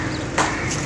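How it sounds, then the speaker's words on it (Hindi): Two sharp knocks ring out close together from a neighbouring house under construction where shuttering is being fitted, brief clattering hits over a steady background. "मेरे पीछे जो आपको खटपट की आवाज़ें आ रही हैं"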